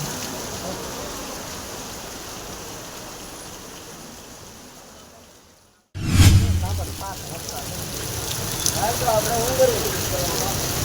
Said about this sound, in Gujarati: તાબડતોડ વરસાદ શરૂ થઈ ગયો